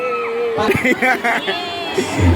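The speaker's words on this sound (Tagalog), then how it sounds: "ihanda ang inyong pangmalakasang hiyawan" Loud crowd cheering and whooping erupts at a barangay fiesta Zumba dance contest, with voices and shouts swelling through the clip and a mix of yells and chatter throughout.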